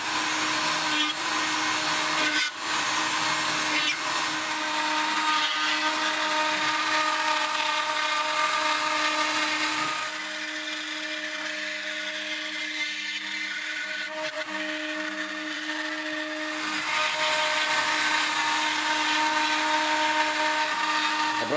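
A CNC router cutting an end-grain wooden picture frame for a TV, giving a loud, continuous high-pitched whine with steady tonal hum that dips briefly in the middle as the load changes, then rises again.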